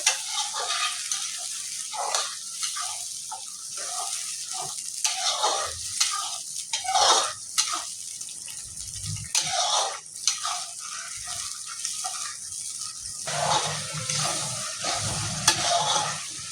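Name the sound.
stirring tomato mix with frying onions in pan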